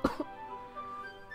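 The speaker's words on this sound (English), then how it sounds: "Why am I coughing?" A woman coughs briefly in the Doki Doki Literature Club visual novel: two quick, close coughs at the start and another at the very end, with sustained soft music tones in between.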